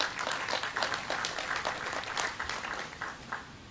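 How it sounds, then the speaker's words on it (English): Steady applause from a crowd at an outdoor groundbreaking ceremony, a dense wash of clapping heard at a distance and fairly faint, continuing throughout. "Can we have another round of applause for Deputy Mayor Kenner?"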